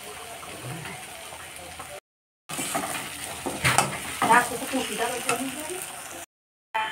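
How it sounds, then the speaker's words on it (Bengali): Fish curry gravy bubbles and sizzles in a pan with occasional stirring scrapes and clinks, close by and moderately loud, broken by two brief silent gaps. "ঝোলের মধ্যে মাছটা দিয়ে এইবার ঝোলটা একটু ফুটিয়ে নামিয়ে নেব"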